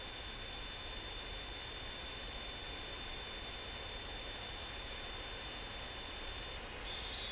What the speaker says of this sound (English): I flatten them out on the 2x72 with an 80 grit belt.